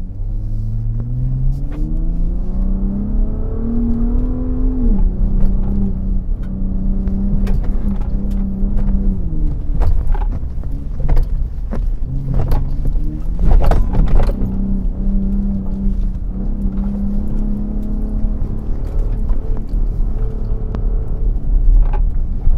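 A Ford F-150 Raptor in Baja mode drives off-road, its engine and exhaust giving a loud, steady rumble that rises and falls as the driver accelerates and eases off, close and continuous with no talk.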